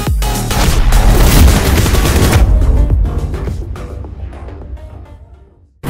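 Dense rapid gunfire from the mobile battle-royale game PUBG Mobile, loud bursts of shots and booms packed together for over two seconds, then thinning into scattered fainter shots and echoes before a final sudden blast.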